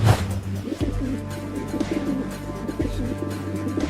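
Low, soft cooing of pigeons repeats steadily, close by, over a faint background hum.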